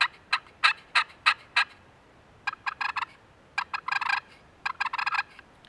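A push-pull box turkey call worked by hand imitates a turkey's soft purr and clucks, giving quick close raspy chirps in short rhythmic clusters with brief pauses between.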